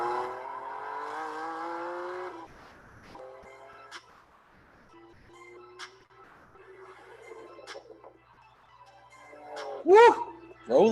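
Car engine hums steadily, then fades, followed by quiet rolling and a few faint knocks, before a sharp rev burst near the end.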